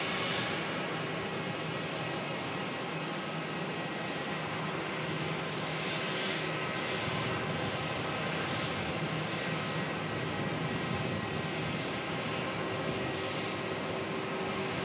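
A China Southern Airbus A350-900 on the runway gives a steady, broad, distant jet engine roar that holds without a break throughout.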